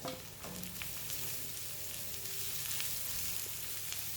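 Chopped onions for mango pickle fry and get stirred in a pan, giving a faint, even sizzle with a few light stirring touches.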